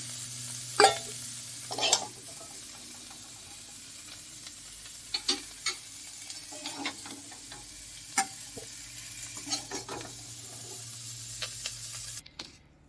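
Cauliflower florets frying in hot oil in a wok as they are lifted out, giving a soft steady sizzle with scattered clicks and scrapes from the utensil, ending in a brief louder clatter.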